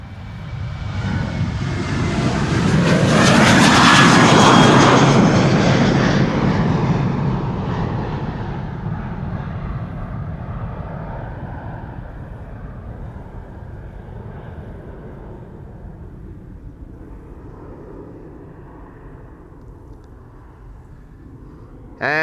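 A Ryanair jet takes off from the Polderbaan runway 36L at Amsterdam on a warm, humid morning, its engine roar building loud and broad, then slowly fading as it climbs away, with a faint steady background afterward.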